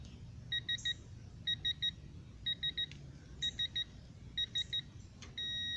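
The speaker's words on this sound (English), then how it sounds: "When it gives you that silent beep, that means we're at 90 pounds." Digital torque wrench set to 90 foot-pounds during a brake job, giving repeated bursts of three quick, high electronic beeps, six groups in steady rhythm, then a single longer continuous tone at the end, fairly faint over low background noise.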